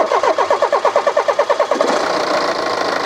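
A BMW 5 Series engine cranks with a rapid rhythmic churn of starter pulses, then catches and settles into a steady close idle.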